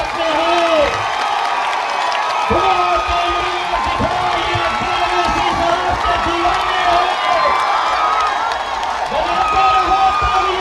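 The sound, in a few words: crowd applauding and cheering at rally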